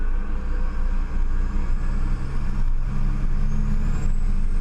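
An Australian B-double truck with a manual transmission drives along. Its engine gives a steady, loud, low drone close by, with no speech.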